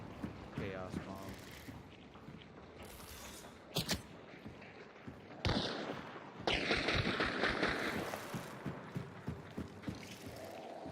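Chaos bomb explosions in a video game, several sharp booming blasts and clattering mechanical bursts spread across the stretch, mixed with game noise and faint voices.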